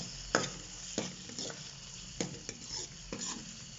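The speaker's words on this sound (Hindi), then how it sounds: "अदरक लहसुन का थोड़ा सा पेस्ट जो है वो डाल देंगे। वो डालेंगे और मिक्स करेंगे" Tomatoes and ginger garlic paste being stirred into frying onions for a yogurt potato masala, with soft scraping strokes about every second over a faint, steady sizzle, quiet and close.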